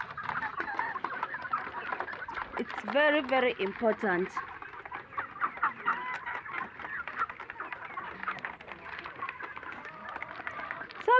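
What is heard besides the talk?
layer chickens clucking on a poultry farm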